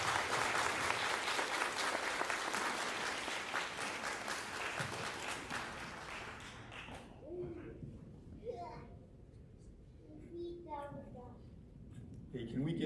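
A school audience claps loudly and steadily at a 5th grade farewell ceremony, a dense wash of hands that tapers off after about seven seconds into quieter murmurs and a few voices.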